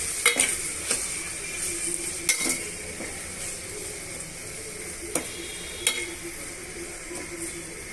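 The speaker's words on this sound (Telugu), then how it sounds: "ఇవన్నీ కూడా బాగా మిక్స్ చేసుకొని ఒక రెండు నిమిషాలు వేయించేసుకోవాలి" Vegetables and spices sizzle and fry in hot oil for hotel-style sambar, with a steady crackle broken by occasional sharp clinks and scrapes of a stirring spoon against the pan.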